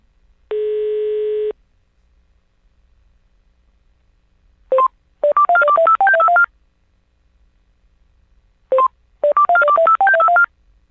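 Telephone number dialed on a phone line: a single long tone, then two quick bursts of rapid DTMF keypad beeps separated by silence, loud and clean with no talking.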